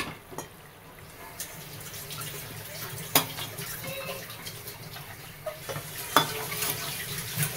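Food being sautéed briefly in a little oil in a pan for a Bihari-style chicken masala, a continuous moderate sizzle broken by a few sharp utensil clicks and stirring scrapes.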